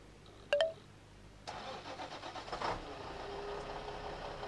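A truck engine starting in the accessible video game Animal Escape, preceded by a brief click, then cranking bursts that settle into a low, quiet idle hum.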